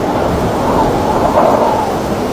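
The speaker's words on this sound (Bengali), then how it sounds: "তুফান হইতেছে কে?" A thunderstorm roars as a loud, continuous broadband wash of rain and rumbling thunder, steady for the whole stretch with no clear individual claps.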